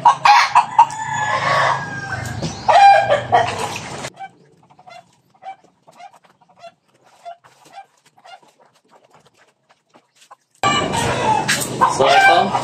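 Bantam Silkie chickens and a rooster on a backyard farm crow and cluck loudly and close by in two bursts, with a quiet stretch between that holds only scattered soft clucks.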